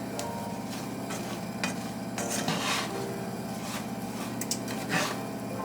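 Cooked spaghetti squash gets mixed in a bowl with soft, uneven scraping and stirring swishes and light clinks of a utensil against the dish over a low background hum.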